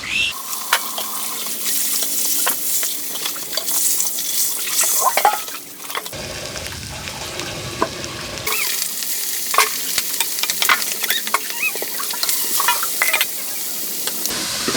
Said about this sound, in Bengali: কুমড় দিয়ে মাছ রান্না করা হচ্ছে